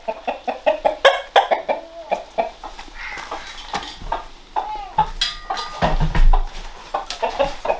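Chickens cluck indoors in a home gym in a quick run of short, close calls, with a few drawn-out squawks and a louder flurry near the end.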